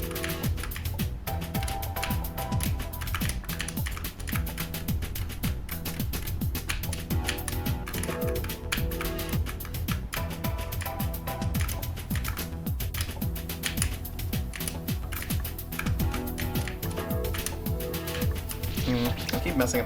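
Rapid computer keyboard tapping during a platform game session, dense steady clicks throughout, mixed with game music and a player talking over it.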